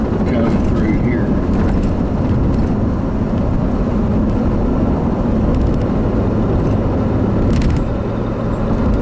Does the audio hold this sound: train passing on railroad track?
yes